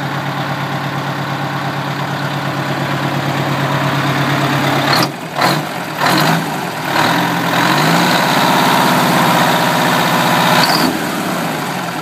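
A 1984 GMC General truck engine idles steadily with a low, rumbling throb, broken briefly by a few revs and clunks midway before settling back into its even idle.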